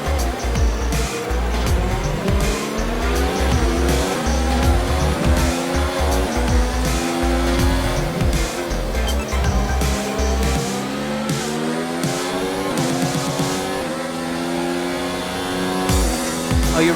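F1 race cars circle a Singapore street circuit in a racing video game, with a loud, steady engine drone that rises and falls through gear changes and bursts of tire squeal and skidding throughout.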